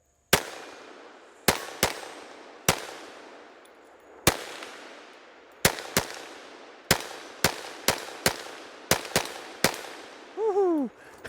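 Sharp, loud gunshots from a .22 Magnum pistol, about a dozen cracks fired at an uneven pace with quick pairs toward the end, each ringing out briefly, followed by a short metallic ring.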